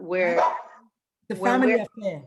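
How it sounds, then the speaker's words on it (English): A household dog barks in short bursts in the background while adults talk over it. "sorry, that's the dog."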